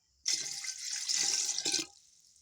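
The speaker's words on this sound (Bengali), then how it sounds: "এবার এতে আমি জলটা দিয়ে দেবো।" Water pours steadily into a cooking pot for rice khichuri, a close, continuous splashing stream lasting about a second and a half before cutting off, with no talk over it.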